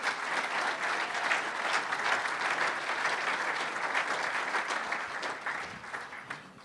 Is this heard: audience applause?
yes